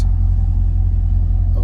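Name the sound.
2008 C6 LS3 Chevy Corvette engine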